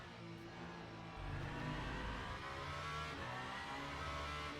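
Race car engine in the Le Mans Ultimate racing game, played in VR, drones steadily and rises into a louder revving surge partway through, sustained throughout with no talk.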